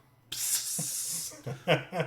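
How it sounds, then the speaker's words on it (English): An aerosol can of Febreze air freshener blasts a loud hissing spray at someone for about a second, then a few shorter spurts follow as voices murmur underneath. "why you spraying me? You know why I'm spraying you."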